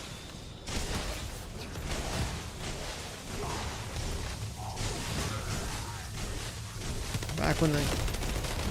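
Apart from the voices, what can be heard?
Enduring Legacy gun firing in video game The First Descendant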